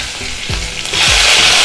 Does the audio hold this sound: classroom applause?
no